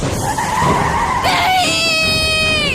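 A loud, high-pitched metallic screech of train brakes rises and holds as the train grinds to a halt, with a rushing rumble beneath.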